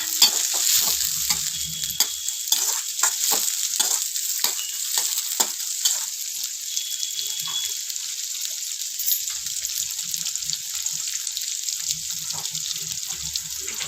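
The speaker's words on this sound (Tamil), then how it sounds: "கொஞ்சம் ஃப்ரை ஆகிற வரைக்கும் நல்லா கொஞ்சம் வெங்காயம் பச்சை மிளகாய் எல்லாம் மிக்ஸ் ஆகும்" Chopped onion and green chilies frying for a snake gourd poriyal: a loud, close hiss of sizzling oil, with quick scraping stirs early on that give way to a steady, even crackle.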